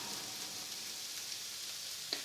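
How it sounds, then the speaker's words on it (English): Meatballs browning in a pan give a continuous crackling sizzle, close and fairly quiet, with a faint clink near the end and no speech. "the meatballs are nicely browning now"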